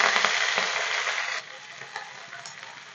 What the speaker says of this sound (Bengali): এবার আমি পালং শাককে ভেজে নেব।